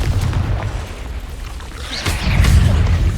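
A Confringo fire spell bursting in the Hogwarts Legacy video game, deep rumbling booms with a second heavier blast and crackling debris partway through, loud and close.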